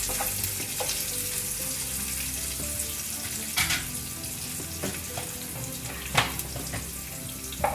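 Finely chopped onions fry with a steady sizzle in a pan for a restaurant-style mixed vegetable dish, with occasional scrapes and clinks of stirring cutting through the continuous hiss.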